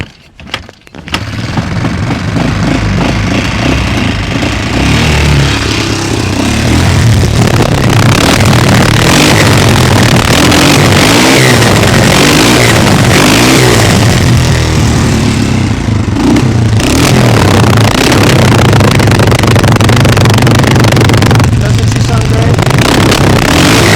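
A Mojave motorcycle engine cranks briefly and catches, then idles and runs roughly for the rest of the time, recorded close at the exhaust, loud and throbbing with small rev changes; someone talks faintly over it.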